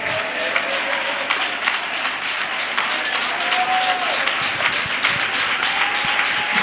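A church congregation clapping during worship, steady rhythmic handclaps from many people filling the room, with faint voices underneath.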